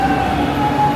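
Metro train at Chennai Central station, a steady loud rumble with sustained tonal hums throughout, close by and without talk.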